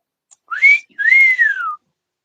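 A pet bird gives a clear, close whistle in two parts, a short rising note followed by a longer note that climbs and then slides down, with silence around it.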